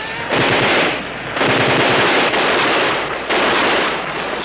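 Covering gunfire in a World War II combat drama comes as three long bursts of rapid automatic fire, loud and close, separated by short pauses.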